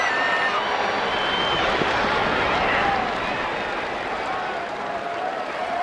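A baseball stadium crowd of Diamondbacks and Padres fans at San Diego in June 2012 roars as a long fly ball carries to left field, a dense, loud, sustained swell that eases slightly toward the end.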